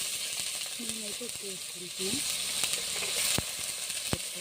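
Onions frying in a pan for a fish curry gravy give a soft, continuous sizzle and hiss, with a few faint tonal squeaks and occasional sharp clicks from the utensil.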